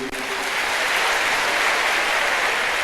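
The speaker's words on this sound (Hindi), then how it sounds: "चाहूंगा कि तालियां और जोर से होनी चाहिए।" An audience at an SCERT event in Delhi claps steadily and loudly throughout, a dense wash of hand claps that holds without a break.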